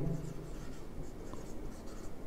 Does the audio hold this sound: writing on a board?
yes